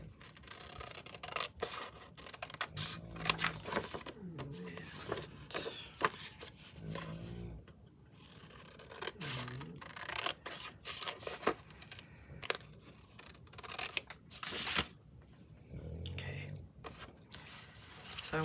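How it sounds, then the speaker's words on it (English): Scissors snip through paper in a crafting session, with repeated short crisp cuts and rustling of sheets, close and fairly quiet, interspersed with someone talking. "So I'll just go ahead and use my scissors."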